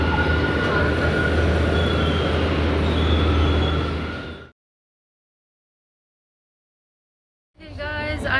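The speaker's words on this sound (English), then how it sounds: "I'm on my first metro train ride here in India from Vaishali metro." Delhi Metro train moving out from Vaishali station in India, a steady loud rumble with a high whine for several seconds, then a gap of silence before the noise resumes briefly.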